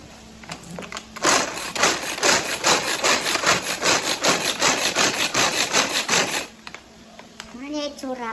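A grinder works through ingredients for spicy buffalo chicken with rapid, rhythmic scraping strokes, loud and steady for about five seconds, then stops as a voice is briefly heard.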